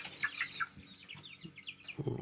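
Young chicks of the White Guard breed chirp and peep in quick, scattered bursts inside a coop, close and fairly soft, with a few lower clucks near the end.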